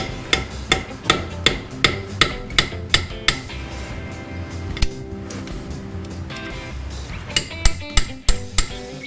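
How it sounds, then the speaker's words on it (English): On a 1995 Corvette LT1 engine, a screwdriver blade is tapped against a seal to work it out. About a dozen sharp metallic hammer taps come in an even rhythm, then a few scattered taps, then another quick cluster close up. "if you put the screwdriver blade on that angle, I think you can tap it in."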